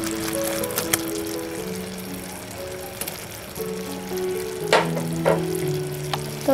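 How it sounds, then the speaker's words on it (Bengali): Chopped raisins and dates stirred in a pan while making a sweet raw mango cake, a soft sizzle under scraping strokes and a few sharp utensil clinks, close and steady. "তো এগুলি দেওয়ার পর ভালোভাবে নেড়ে নিই"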